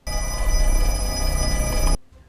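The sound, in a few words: telephone ringing in movie Black Phone 2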